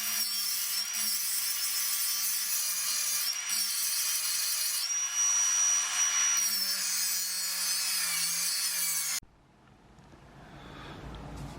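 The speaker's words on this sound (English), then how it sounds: "And now, grinding." Power grinder working old rusty brake rotors being made into a planishing anvil, a steady high metallic whine and rasp for about nine seconds, then cutting off to quieter workshop noise.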